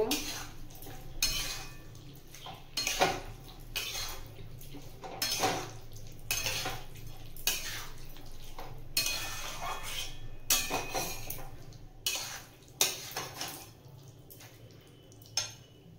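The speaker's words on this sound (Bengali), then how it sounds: "এরপর ভেজে রাখা পনিরগুলো সব দিয়ে দেব। মিশিয়ে নেব।" Fried paneer is stirred into chilli paneer in a pan, with a steady run of close metallic scrapes and clinks of the utensil against the pan, fairly loud and continuous throughout.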